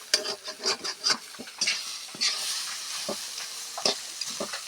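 Egg, potato, tomato and other vegetables fry in a pan, with a series of close scraping stirs over a light sizzle, rhythmic at first and then sparser, with no talking.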